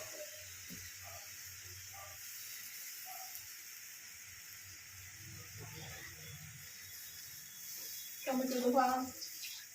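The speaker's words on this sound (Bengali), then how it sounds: "টমেটো লাগানো হাতটা ধুয়ে দিয়ে দিলাম জলটা" Tomato-stained hands rinsed under running water while cooking chicken, a faint trickle and hiss that swells into a short, louder splash near the end.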